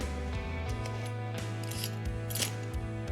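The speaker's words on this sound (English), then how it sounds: "So obviously you got all your Allen keys." Metal Allen keys in imperial and metric sizes, part of a motorcycle trip tool kit, being handled: close metallic clinks, scrapes and rattles come in irregular bursts over a steady low hum, with no voices.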